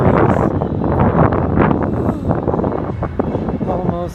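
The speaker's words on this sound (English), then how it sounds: "it's so windy out" Strong wind buffeting outdoors, a heavy, loud roar and rumble continuous across the clip, with a person talking over it.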